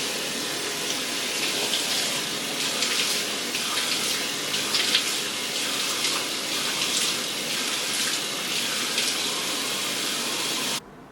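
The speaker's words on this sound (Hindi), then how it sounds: "पानी का छींटा मारते हुए आप देख नहीं सके, लेकिन आपको अंदाजा होगा कि मैं छींटा ही मार रही थी" Water splashed onto a face for a sweatproof and waterproof makeup test: a continuous, close rush of water with scattered splashing bursts throughout, ending abruptly.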